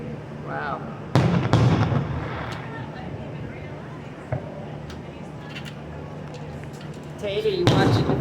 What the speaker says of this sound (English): you watching the fireworks?